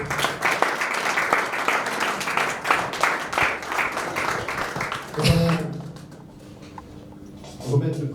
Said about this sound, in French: que je tiens qu'on applaudisse, s'il vous plaît